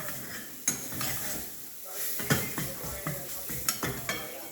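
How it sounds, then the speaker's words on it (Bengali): Cauliflower and potato fry in a pan for curry with a soft sizzle. A utensil scrapes and clinks against the pan in irregular stirring strokes, heard close up. "ভালো করে আমি ভেজে নেব।"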